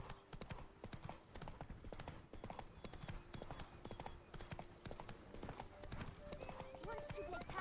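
Hooves of the horse Roach from a video game clop steadily in a continuous trotting rhythm, with game sounds and other noise layered in the background.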